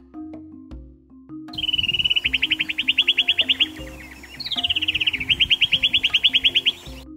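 Birds calling on the shores of Lake Manyara, Tanzania, an alkaline lake: two long runs of rapid, repeated high chirps, clear and fairly close, over low rumbling background noise, with no voices.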